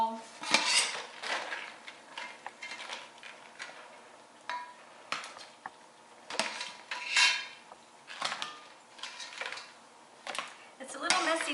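Crab cioppino ladled from a pot into a bowl, with repeated metallic clinks and scrapes of a utensil against pot and dish in uneven bursts, close by, and a voice speaking faintly beneath.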